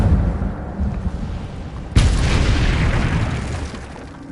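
Incendio fire spell from a Hogwarts video game, a low rumble that erupts into a sudden loud whooshing burst of flame, then trails off into a roaring tail that slowly fades.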